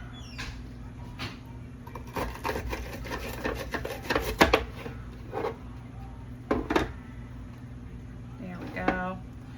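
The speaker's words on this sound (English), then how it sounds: "Just make sure your slices go the opposite direction so that they're getting sliced across, and then they're all diced up for you." A kitchen knife slices and dices peppers on a cutting board for nacho toppings, with a run of quick, close, crisp chops followed by a few separate cuts, while a person talks over them.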